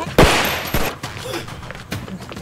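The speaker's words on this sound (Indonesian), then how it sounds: "hendak kabur dengan menyandera si Arnel, tiba-tiba saja dia diserang dari belakang hingga baku tembak pun terjadi." Gunfire in a gunfight from an action film, a few sharp loud bursts spaced across the moment, with faint voices and background noise between the shots.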